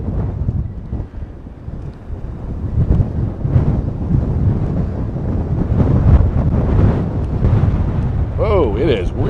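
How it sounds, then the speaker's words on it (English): Strong wind roars and buffets the microphone outdoors for the whole stretch, a steady loud rumble with gusts, and a brief warbling tone near the end. "Whoa, it is really windy."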